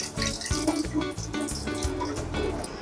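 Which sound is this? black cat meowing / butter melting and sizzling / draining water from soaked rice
draining water from soaked rice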